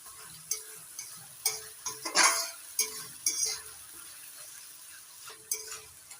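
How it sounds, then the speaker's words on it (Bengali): Ground paste of cumin, coriander, chili and ginger being sautéed in a pan for a vegetarian potol korma, with soft sizzling and a series of scraping stirs, close and fairly quiet, no talk. "এবার কষিয়ে নিচ্ছি একটু।"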